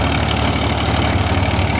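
A Massey Ferguson 135 tractor drives a 42-blade rotavator, its engine labouring under load with a loud, steady, unbroken drone close by.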